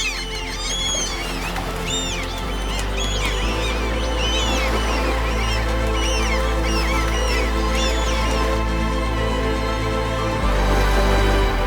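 Seagulls call repeatedly by the sea on the Danish coast, many bright, overlapping cries spread across the scene over a steady low rumble of wind and surf.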